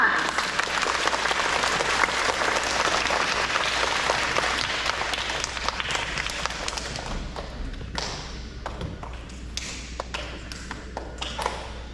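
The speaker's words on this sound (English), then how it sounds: "Let's give Mrs. Johnson a round of applause" School audience at an elementary awards assembly claps for a teacher, a broad sustained applause that thins into scattered individual claps, with a few taps and thuds near the end.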